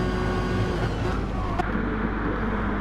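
Race car engine in a racing video game at Le Mans, a steady loud drone braking into a sharp right-hander after the long straight, with a faint voice underneath and a brief click midway.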